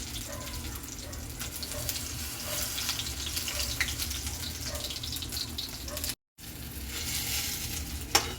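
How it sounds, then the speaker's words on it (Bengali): Eggplant pieces frying in hot oil give a steady crackling sizzle with watery hiss, continuous and close, with a brief dropout near the end. "এই যে সব বাইগুন কোটা ভাজা হয়ে গেল"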